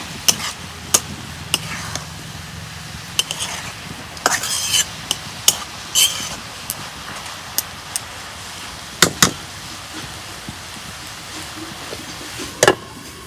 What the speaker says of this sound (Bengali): বাঁধাকপি ভাজা গেছে